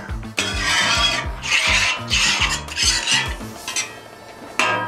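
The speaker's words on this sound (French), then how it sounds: "Je vais étendre ça avec ma spatule." Metal spatula scraping and spreading chicken croquette mixture across a hot outdoor plancha griddle, rhythmic repeated scraping strokes with sizzling hiss underneath, loud and close, no speech.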